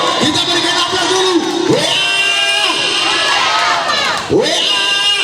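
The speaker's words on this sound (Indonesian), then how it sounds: "Kita berikan aplaus dulu." A crowd at an outdoor election campaign rally in a village cheers, whoops and shouts loudly, with children's voices mixed in. The roar swells and dips with sharp rising cries throughout.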